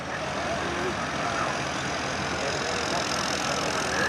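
A Cummins diesel truck engine at a truck pull gives off a steady, dense rumble with a hint of knock. It idles or runs at an even pace without letup, and no voices are heard.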